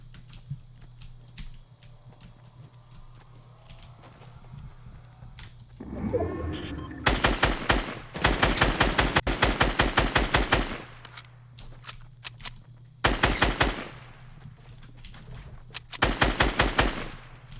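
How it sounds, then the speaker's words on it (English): Rapid automatic gunfire in the Fortnite video game comes in several loud, dense bursts over a low steady hum, with quieter clicking between the volleys. "the gun audio is much different now. It's a lot louder when I'm shooting this gun for some reason."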